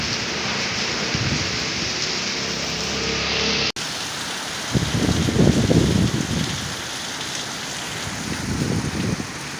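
Heavy storm rain pours steadily onto a road in a dense, hissing wash, briefly cut off midway, then swelling with louder rumbling gusts.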